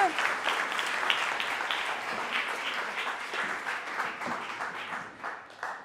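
An audience applauds at the Limoges fashion show, steady moderate clapping that continues evenly and thins slightly toward the end.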